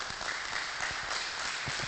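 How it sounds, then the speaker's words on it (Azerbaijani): Studio audience applauding at a televised lottery prize show, a steady wash of clapping that holds evenly throughout the short stretch with no voices over it. "Alqışlayırıq ürəkdən."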